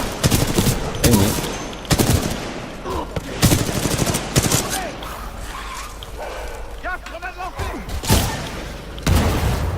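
Video game shooter gunfire bursts out in sharp volleys and rapid automatic rattles between quieter gaps, with excited players talking over the shots.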